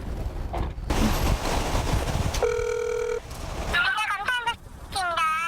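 On an outgoing phone call, a single steady ringback tone sounds for under a second, followed by voices talking over the line.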